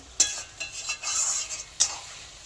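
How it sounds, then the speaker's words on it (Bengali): Mutton masala being stir-fried in a pan for a Bengali mutton kosha with potatoes: a few sharp spatula scrapes and clacks against the pan over a soft sizzle, close and fairly loud, no speech. "যতক্ষণ না মশলাটা কষানো হচ্ছে ততক্ষণ আমি এটাকে কষিয়ে যাব।"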